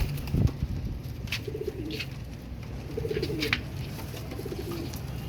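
Royal Teddy pigeons cooing in short repeated phrases, fairly near, with occasional faint wing flutters and bird calls and no talk.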